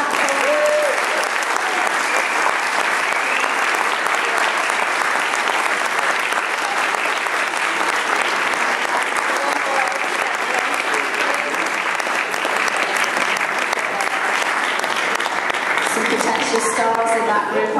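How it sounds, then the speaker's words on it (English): Sustained applause from a school nativity audience for a percussion band, a dense steady clatter of many hands that runs unbroken at full strength before easing slightly at the end. "big clap for you"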